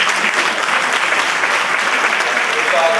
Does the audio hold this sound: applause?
yes